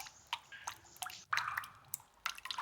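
Water drips from a leaking roof into buckets, a series of irregular close plinks and splashes over a faint background.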